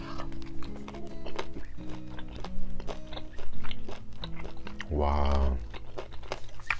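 Wet, crunchy chewing of parboiled king octopus suckers with repeated biting clicks, close to the mic, while a person talks throughout.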